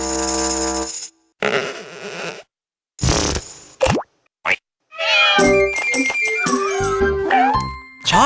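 A sequence of short, separate sound effects includes a cat's meow among plops, boings and jingles, each loud and alone with gaps of silence between them.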